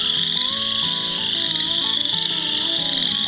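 Leopard frogs and other frogs croak in a dense, continuous chorus on a warm day at a nature centre, with overlapping calls and a steady high insect-like trill running throughout.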